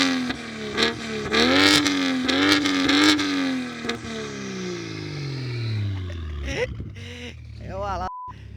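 A tuned Volvo V60 T6 roars through repeated loud revs that climb and fall, then settles into a long, fading acceleration pull as the car moves away. A few short bursts and a brief tone come near the end.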